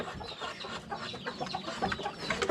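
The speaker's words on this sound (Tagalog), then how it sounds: "Ganito po ang inahin na talisayin." A Talisayin hen clucks in short, irregular bursts close by, with other farmyard noise around it and no speech.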